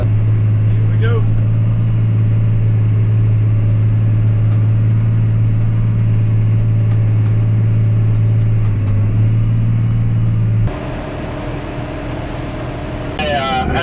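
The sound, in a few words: truck engine driving slowly in two-wheel drive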